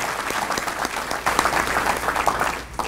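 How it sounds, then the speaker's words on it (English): Steady applause from a large audience at a Black History Month luncheon at Fort Jackson army base, dense and continuous clapping filling the room, with a few sharper claps standing out near the end. "I want you all to give yourselves a round of applause"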